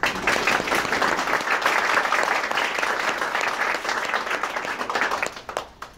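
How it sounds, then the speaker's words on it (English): Audience applause for nursing graduates at a 2017 pinning ceremony: a dense, loud, sustained wash of clapping from a crowd that fades near the end. "How about a round of applause for our graduates?"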